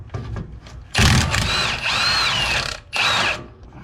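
On an Acura TL being fitted with coilovers, a power tool removes a suspension bolt in close, loud bursts: a short rattling burst, then a longer sustained whir and a final brief spin.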